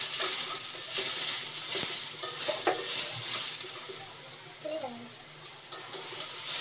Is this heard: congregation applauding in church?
no